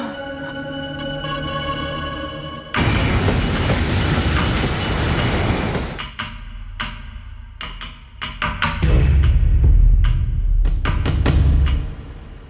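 A train runs on rails with a loud, continuous rumble and rattle of wagons, followed by a burst of rhythmic clacking and thuds as it rolls past close by.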